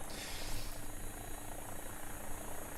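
An X-Trident AW-109 helicopter in X-Plane 12 drones with a steady, loud engine and rotor whine, unbroken and close throughout.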